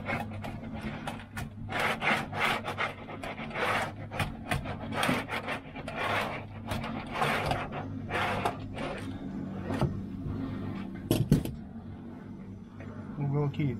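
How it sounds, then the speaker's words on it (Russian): A hand bender tool folds sheet metal for a double-seam eave molding cover, giving repeated scraping, rasping strokes at close range with a sharp clank near the end. "Берем наш любимый бендер."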